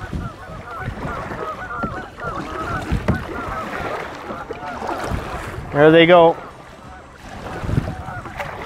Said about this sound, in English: These geese are being very loud.